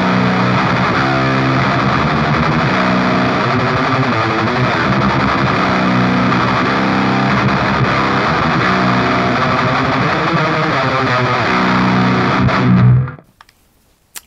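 Death metal guitar through a distortion pedal with the mid cut fully engaged plays a loud, continuous, heavily saturated riff for about thirteen seconds before cutting off sharply into near silence.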